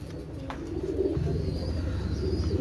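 A pair of Pakistani Nila Kamakar pigeons coo in low, throaty, repeated rolls, close by and steady, over a constant background hum with no talking.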